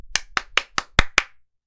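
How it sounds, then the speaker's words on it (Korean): Six sharp hand claps in a steady, evenly spaced rhythm, close and fairly loud, with silence after the last one; a single person clapping during a live stock-market broadcast. "박수 치면서 할수 있다!"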